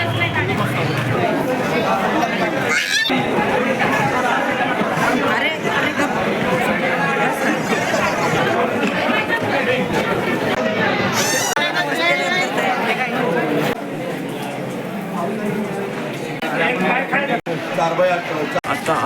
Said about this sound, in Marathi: माणसा गर्दी बघून आता मोठ्या प्रमाणावर